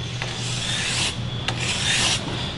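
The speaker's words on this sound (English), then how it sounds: "You want to go in one direction when you're cleaning the aluminum." Wire brush scrubbed across aluminum before TIG welding, rough raspy strokes in one direction, a few close, steady passes with brief pauses between, no talking.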